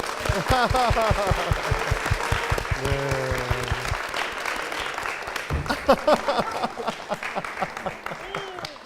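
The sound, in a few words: applause in church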